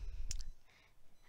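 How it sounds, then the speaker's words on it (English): Keys tapped on an actuarial calculator, a quick cluster of two or three sharp plastic clicks close by, then quiet. "this calculator is actually something where you can type in long equations"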